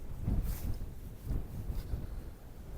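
Wind buffets the microphone on a spring countryside walk near the Ilmington Hills, low gusty rumbles rising and falling softly with no voices.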